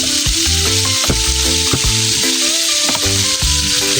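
Garlic fries in oil with a loud, continuous sizzle and crackle, close up, broken by occasional stirring clatter. No one speaks.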